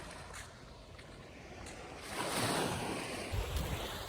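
Ocean waves at a beach in Sicily, a steady wash of surf that swells louder midway as a wave breaks nearby, with some wind buffeting the microphone.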